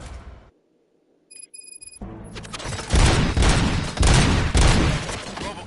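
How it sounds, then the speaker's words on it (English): Gunfire in the Robocop Rogue City video game: a brief quiet with electronic beeps, then loud sustained bursts of automatic shots and impacts filling the rest, with no talking. "Gunshots? What's going on?"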